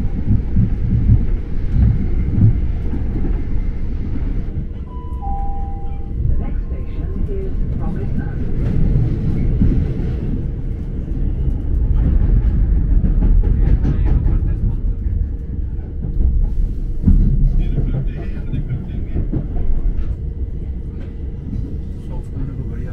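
Low, steady rumble and rattle inside a moving train carriage, continuous throughout, with faint voices and occasional squeaks and clicks.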